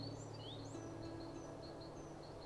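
High, thin, lisping whistled calls of a cedar waxwing from a bird-themed video game, repeated soft trills faintly over a low steady background hum.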